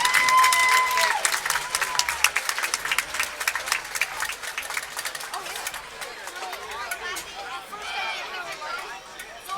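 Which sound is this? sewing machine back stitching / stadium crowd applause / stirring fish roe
stadium crowd applause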